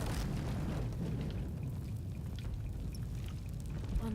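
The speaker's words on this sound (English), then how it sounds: "I'll need to set the oil aflame to burn the barrier" Oil set alight in Shadow of the Tomb Raider roars as a steady, dense burst of fire consuming a wooden barrier, a continuous rushing blaze with no talk.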